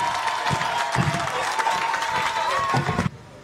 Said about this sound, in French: Vos applaudissements, vos applaudissements, vos applaudissements